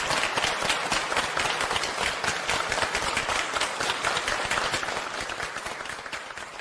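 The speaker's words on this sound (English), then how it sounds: "please join me in a warm applause to welcome the General Secretary" Loud, dense applause from a large audience at a formal Chinese political gathering welcoming the General Secretary and Political Bureau Standing Committee members, steady and sustained, fading slightly toward the end.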